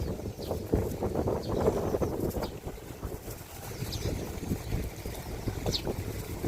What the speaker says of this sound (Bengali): বাতাস, অনেক বাতাস